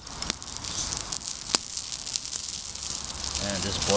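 Pot of water bubbling over a campfire for noodles, a low rushing hiss with a few sharp pops, and a voice beginning to speak near the end.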